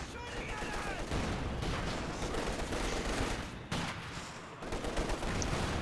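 Dense gunfire and mortar fire in a Company of Heroes 2 battle, a continuous, heavy barrage of overlapping shots and blasts with brief dips, steady and loud throughout.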